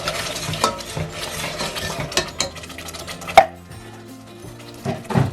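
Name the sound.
manual can opener opening a can of chopped tomatoes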